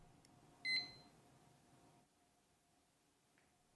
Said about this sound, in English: Start the timer for 30 minutes